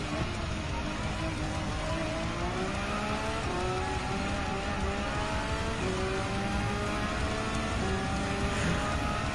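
Race car engines in Gran Turismo 7 drone and rise steadily through gear changes, a continuous revving whine that fills the whole stretch with no voices over it.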